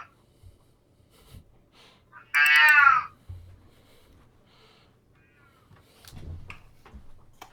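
A single drawn-out cat meow, fairly close and clear, rising out of a quiet room with faint scattered talk and small noises before and after.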